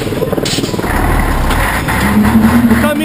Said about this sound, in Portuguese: O caminhão atrapalhando